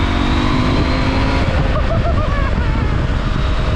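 Husqvarna Norden 901 adventure motorcycle engine pulling steadily up a highway climb, a loud continuous drone with rising pitch, close and alone.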